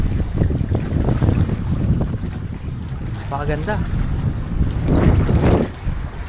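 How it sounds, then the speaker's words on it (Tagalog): Steady gusty wind buffets the microphone by the sea at Osmeña Point, Dasol, a low rushing roar under brief speech from a person talking nearby. "Tapos dito mahangin"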